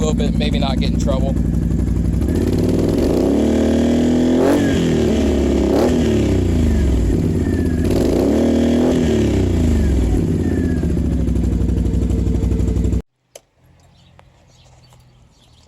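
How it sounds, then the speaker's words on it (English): A loud, close Can-Am Outlander L 570 XMR ATV engine with an HMF Performance Series exhaust idles roughly and revs several times with a throaty exhaust note, then cuts off abruptly into near silence. "We could probably rev her a little bit, maybe not get in trouble"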